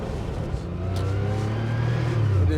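A 1978 Porsche 911 SC Targa with a 3-liter CIS-injected engine accelerates, its engine note rising in pitch and loudness over a few seconds, heard from inside the car.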